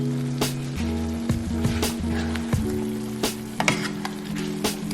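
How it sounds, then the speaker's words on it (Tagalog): Chili sauce and sugar go into a sizzling pan of garlic butter shrimp in oyster sauce, giving a steady close sizzle with a few sharp crackles and a background hum throughout. "And then add sugar, pour in your chili sauce according to your preference."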